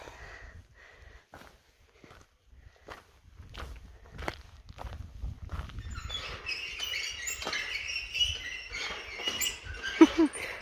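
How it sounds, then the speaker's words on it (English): Footsteps thud across a wooden footbridge on the Kungsleden trail between Abiskojaure and Alesjaure while high squeaky birdlike chirps rise from the boards, growing busier and louder toward the end. "The bridge sings like little birds while you cross it."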